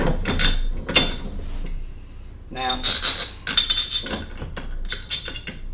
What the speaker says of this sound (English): screw these large screws into it to hold the two pieces of the clamp together.